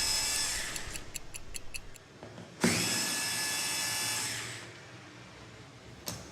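A power screwdriver removes two screws from the brake lever of a General Transmissions RS800 CVT: a short whirring burst, a pause, then a longer close, loud drill whine that fades out, ending with a sharp click.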